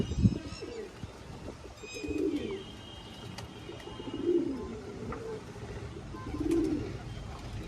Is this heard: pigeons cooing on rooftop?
yes